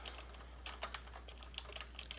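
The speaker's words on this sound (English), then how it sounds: "excuse my typing" Quiet, close typing on a computer keyboard: irregular light key taps and clicks in uneven bursts over a low steady hum, with no speech.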